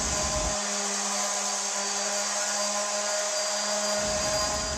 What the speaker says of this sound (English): And now a quick sanding with 80 grit just to smooth everything out.